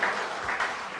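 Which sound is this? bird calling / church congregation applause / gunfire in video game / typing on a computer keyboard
church congregation applause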